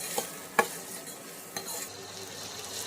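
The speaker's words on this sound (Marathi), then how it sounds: "टोमॅटो टाकू आणि टोमॅटो छान परतवू।" Tomatoes sautéed in a pan for sambar: a soft background sizzle with a few sharp spatula taps and stirring scrapes, close and fairly quiet.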